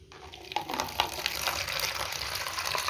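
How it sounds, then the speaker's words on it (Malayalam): Water pours steadily into a container, a continuous splashing gush with a few brief knocks near the start. "ഈ പാത്രത്തിലേക്ക് നമുക്ക് ആവശ്യമുള്ള വെള്ളം വേണം ഒഴിച്ചു കൊടുക്കാൻ"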